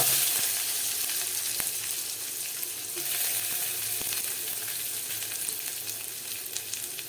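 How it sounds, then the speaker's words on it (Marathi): Chopped onion goes into hot oil with chili and fries with a loud, steady hiss and crackle, close up and continuous, with occasional soft stirring sounds and no talk. "त्यानंतर आता आपण टाकू यामध्ये कांदा."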